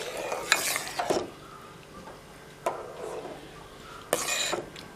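Coconut and jaggery payasam being stirred in a pan, giving scraping strokes with faint sizzling between them. A few sharper scrapes stand out against a quiet background, and no one speaks.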